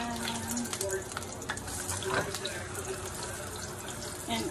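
Ahi poke fish patties for a keto dish frying in a pan over rising heat, with a steady close sizzle and crackle, a few soft clanks of the pan and a brief louder spatter midway as they are flipped.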